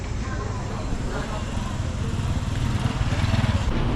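Steady roar of street traffic with cars, buses and passing motorbikes on Koh Samui island, Thailand, fairly close and continuous, building slightly toward the end.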